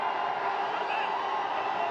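A hockey stadium crowd roars steadily in support of India during a World League Final quarter-final against Australia, a dense, continuous wash of cheering and whooping with no break.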